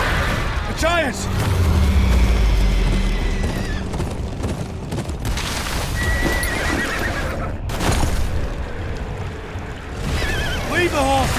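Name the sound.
horses neighing in video game Game of Thrones: Kingsroad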